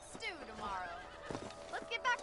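A horse in Red Dead Redemption gives a high, wavering whinny, then another short neigh with hoof clops, fairly quiet and overlapping a voice talking.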